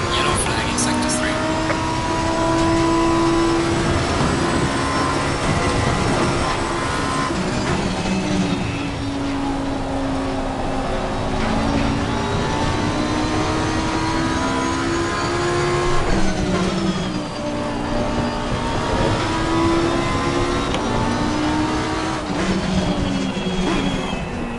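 A race car driven at Zandvoort in wet conditions in Assetto Corsa Competizione, engine revving up and down through gear shifts and braking zones, loud and continuous, with someone talking over it.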